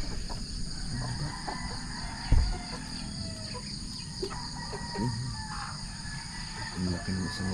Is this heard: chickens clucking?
yes